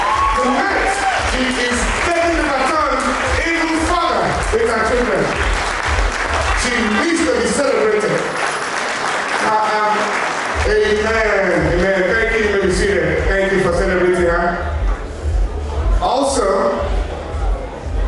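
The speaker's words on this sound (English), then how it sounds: "I'd like for everyone to give her a standing ovation tonight." A crowd gives a standing ovation at a celebration of life, sustained dense clapping with occasional whoops filling the room while voices speak and call out over it.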